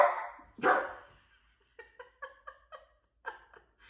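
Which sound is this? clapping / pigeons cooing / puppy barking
puppy barking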